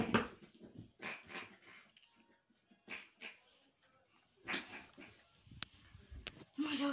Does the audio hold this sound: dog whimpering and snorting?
yes